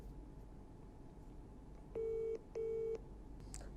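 An outgoing phone call rings on the line as a ringback tone: two short, even tone bursts in a row over a faint background hiss, with no voices.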